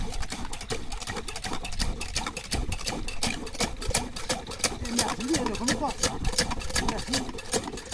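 Shallow water pump engine running in a village, a steady rapid mechanical chugging that holds an even rhythm throughout, close and fairly loud, with people talking over it.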